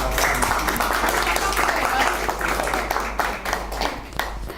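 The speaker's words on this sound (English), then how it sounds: "on va l'applaudir" Audience in a Paris lecture hall gives the host a short burst of clapping, loud at first and gradually thinning out over a few seconds.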